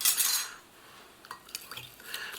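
Transparent plastic Polish fire brigade ration cutlery stirs a drink: a brief rustle, then light clinks and scrapes against the cup, close and quiet.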